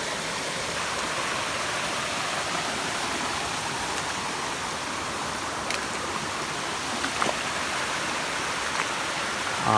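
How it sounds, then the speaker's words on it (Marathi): A small forest waterfall in the Chiveli jungle near Chiplun, Konkan, gives a steady broadband rush of falling water, constant and fairly close, with no voices over it. "आपण इथे थोडासा धबधबा तुम्हाला दिसेल"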